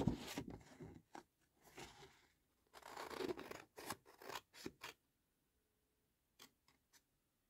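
Scissors cutting paper for a junk journal, close and crisp, with a run of snipping strokes in clusters, then a pause and a few last isolated snips.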